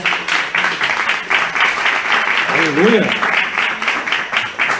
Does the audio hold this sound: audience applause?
yes